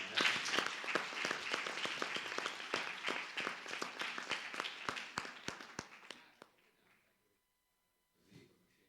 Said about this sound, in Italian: Facciamo un applauso ad Antonio.